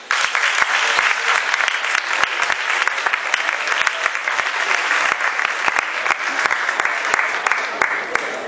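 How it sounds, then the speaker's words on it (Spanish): Sustained audience applause fills the space after a student project from several high schools is announced, dense and steady throughout with no pauses. "Un fuerte aplauso."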